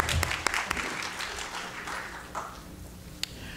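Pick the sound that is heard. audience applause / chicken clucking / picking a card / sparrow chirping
audience applause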